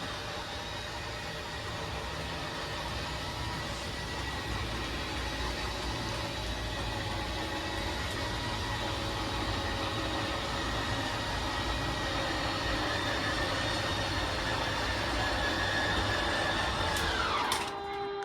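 The slide-out motor of a 2022 Geo Pro ET21QBS RV runs with a steady mechanical hum for a long stretch, then winds down and stops near the end when fully extended, with no talking.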